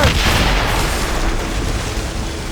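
Ship cannons firing in Assassin's Creed Rogue on Xbox 360, a heavy booming volley that opens loud and rolls into a long, rumbling decay of distant blasts, with no talk over it.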